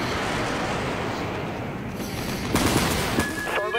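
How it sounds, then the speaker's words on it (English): Weapon breaker torpedo launch aboard a warship in the Dreadnought video game, a dense roaring burst of explosive noise that swells and crackles toward the end, loud and continuous with no talk. "Weapon breaker torpedo launched."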